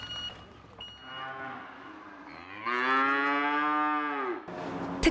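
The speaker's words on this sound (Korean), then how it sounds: "주인공은 젖소 101마리입니다" A dairy cow moos in a long, drawn-out low bellow, with another deeper moo before it and quiet barn ambience around.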